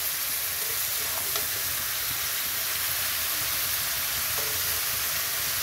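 Pieces of ash gourd fry in a pan with a steady, hissing sizzle that holds even and unbroken, with a couple of faint utensil taps.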